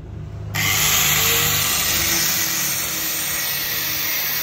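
An angle grinder cutting an old bicycle sprocket, its steady high whine and grinding noise loud and continuous after a sudden start, with no talk.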